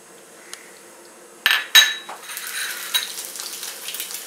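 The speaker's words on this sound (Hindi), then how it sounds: "और इस तेल में मैं पनीर फ्राई कर लेती हूँ" Paneer cubes fry in hot oil, a sudden loud sizzle bursting in about halfway through and settling into a steady crackling hiss, with a few metallic clinks of a utensil against the pan.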